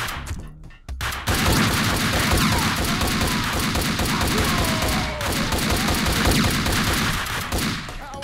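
Sustained gunfire in Max Payne 2, a dense, loud barrage of rapid shots and clattering impacts that starts abruptly after a brief quiet moment and continues almost without pause.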